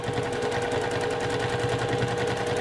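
A sewing machine doing free motion quilting on fabric runs at a fast, steady stitching rhythm, close up and continuous with an even hum beneath the rapid needle taps.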